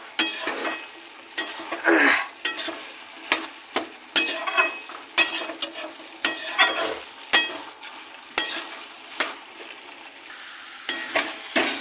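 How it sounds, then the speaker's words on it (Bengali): Vegetarian labra of mixed vegetables fries in oil in a pan with a little sugar as the liquid dries off, a soft steady sizzle broken by regular scraping stirs with a spatula roughly once a second. "ঝোল শুকিয়ে ভালো করে ভেজে নিয়েছি"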